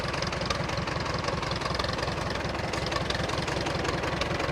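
A 1953 Allis Chalmers WD45 tractor engine, warmed up, runs steadily close by with a rapid, even low-pitched chugging pulse and no voices over it.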